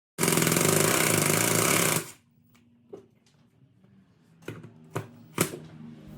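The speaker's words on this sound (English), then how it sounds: "Now it's time to install the 3 self-tapping screws." A power drill drives self-tapping screws while installing a Genie garage door opener, whirring loudly for about two seconds, then stops, followed by scattered clicks and light knocks nearby.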